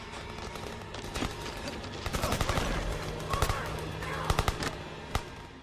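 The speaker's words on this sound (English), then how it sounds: "following Clive Owen through the streets and into a crowded apartment building during a raging firefight" Rapid gunfire from a war film's chaotic firefight through city streets and into a crowded apartment building: dense bursts and scattered shots, loud and close, fired continuously over a constant background din.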